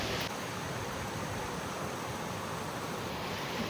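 Steady broadband roar of a large monsoon waterfall at Mormarewadi near Kamshet, continuous and fairly loud with no gaps, a wide rushing wash of falling water with no voices.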